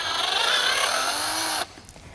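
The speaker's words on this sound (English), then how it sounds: "So you have to get it out with a drill bit in this manner." A drill bit bores a pressed-in bushing out of a John Deere duplex carburetor body, a steady, close, high whining grind held for about a second and a half and then cut off abruptly, with no voices.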